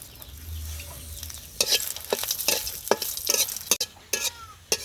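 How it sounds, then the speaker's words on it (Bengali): Dried red chillies sizzle in a pan for a Bangladeshi bhorta: a low rumble at first, then bright frying noise punctuated by sharp, irregular spatula scrapes and taps, close and fairly loud. "শুকনা মরিচ ভাজা শেষ, নামিয়ে নিব।"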